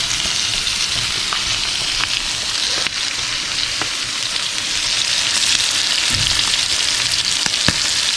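Grass-fed filet mignon steaks sear in a hot pan, a steady close sizzle and crackle running throughout with small pops and no talking.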